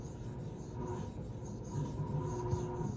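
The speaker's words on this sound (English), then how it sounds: "This particular knife is made with 154 cm steel, which is one of my favorite steels of all time to sharpen." A Protech Strider knife of 154CM steel is drawn across a sharpening stone in quiet, repeated rasping strokes, a soft gritty scrape rising and falling in close, steady rhythm with no talking.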